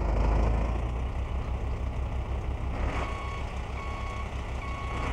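Steady reversing beeps pulse at an even rhythm while a car is parked in a car showroom video game, set against a low, continuous engine drone with no talking.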